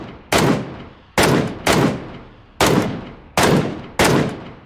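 Six loud, close sniper rifle shots in PlayerUnknown's Battlegrounds, each a sharp crack with a decaying tail, fired at a steady rhythm of roughly one every 0.7 to 0.8 seconds.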